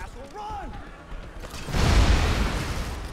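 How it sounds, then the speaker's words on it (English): A loud, rumbling explosion bursts in the video game Dead Rising 3 and rolls on for over a second after brief game sounds. "Celebration of explosion!"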